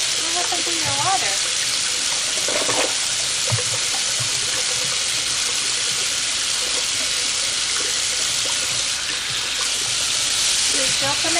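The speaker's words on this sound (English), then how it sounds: "Water's coming out." Water runs steadily from a tap in a 1989 home setting, a continuous hissing gush with children and adults talking over it now and then.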